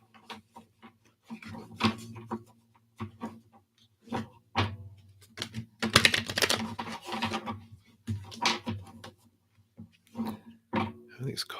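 Oracle of the Seven Energies cards being shuffled by hand, a crisp riffling flutter in short bursts with one dense, louder run midway, while a person talks between the shuffles.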